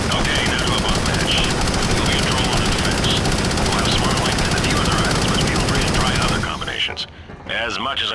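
A spinning-barrel machine gun in the video game Shadowrun fires a loud, continuous stream of rapid shots for several seconds, then cuts off abruptly, leaving brief quieter game noise.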